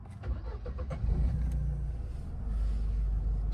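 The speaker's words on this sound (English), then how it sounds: "Let's start it up." A Mercedes W202 C-Class starts with a simple key turn: a brief crank, then the engine catches and settles into a low, steady idle close by, with no talking.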